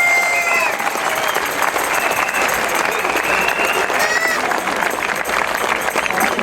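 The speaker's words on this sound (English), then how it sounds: "And clap, clap." Crowd clapping at the Adelaide freedom protest of September 2021, dense sustained applause from many people outdoors, with voices and cheers mixed in throughout.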